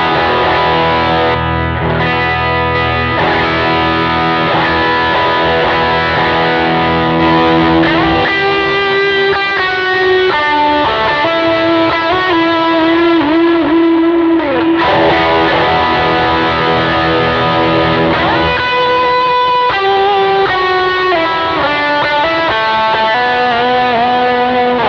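A heavily distorted electric guitar, a Fender Princeton '64 reissue amp tone modelled on Line 6 Helix, plays a sustained lead line, moving from chords into bending, singing high notes, loud and continuous with no talking.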